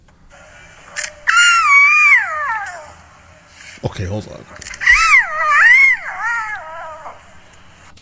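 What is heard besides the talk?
lion cubs trying to roar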